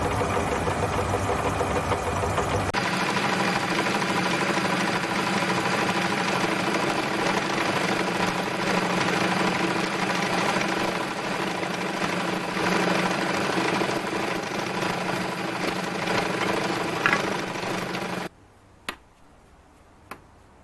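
A machine tool takes a slow final cut in its low gear range while machining a pulley slide and axle part for a bench-top belt sander. It makes a loud, steady drone for most of the stretch, then stops, leaving a few faint clicks.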